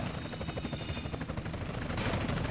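A police helicopter's rapid rotor thumping in GTA San Andreas mobile fills the clip, loud and continuous, with a burst of noise near the end.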